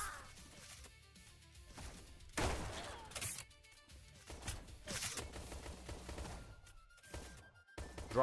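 Grenade blasts in a free-for-all multiplayer shooter come as several sharp, heavy bursts spread across the clip, with loud cracks and rumbling decays among scattered gunfire and game noise.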